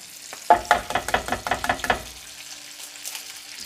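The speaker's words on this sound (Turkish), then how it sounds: "Peynirle birlikte burada karıştırıyorum." Eggs and cheese are stirred in a Teflon frying pan, a close run of about a dozen quick scraping strokes over a soft sizzle before the stirring stops and faint frying carries on alone.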